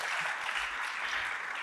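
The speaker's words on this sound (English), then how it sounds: "So give yourselves a nice round of applause for that." A community event audience applauds in a brief burst of dense, steady clapping filling the room, loud and even from start to finish.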